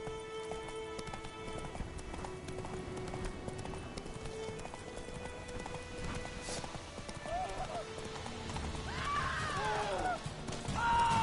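Roach, a horse in the video game The Witcher 3, galloping with rhythmic hoofbeats under game music and ambience, a neigh rising near the end as the sound grows louder, with a voice speaking over it.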